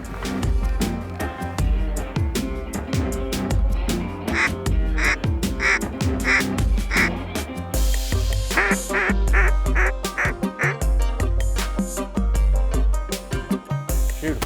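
Ducks quack in flooded timber during a duck hunt, with repeated raspy calls that come in rhythmic bursts and overlap continuously at close range.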